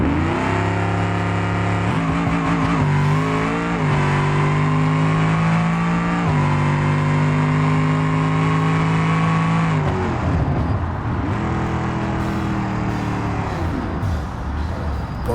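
Roughly 1,900-horsepower drag car in the BeamNG game revving hard and accelerating down the strip, a loud, close engine roar climbing in pitch through several surging pulls with brief breaks between them.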